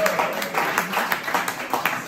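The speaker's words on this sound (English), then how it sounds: "Got a round of applause for Stefania." An audience at a comedy gig applauds a performer named Stefania, with fairly faint, steady clapping and some cheering voices mixed in.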